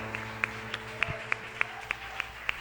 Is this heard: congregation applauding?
yes